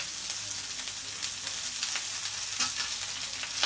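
Chopped onions frying in a pan with a pinch of salt, a steady close sizzle and crackle with occasional faint stirring taps, no voices.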